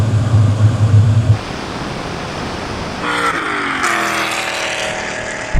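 A BMW E39 M5 and an Alpina B10 accelerate hard side by side in a drag race: a heavy low engine roar at first gives way to rushing noise, then rising engine tones climb as the cars pull away.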